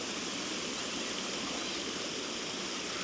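Continuous rushing water, a steady broadband roar of water spilling through a park pond overflow outlet, even and unbroken for the whole stretch.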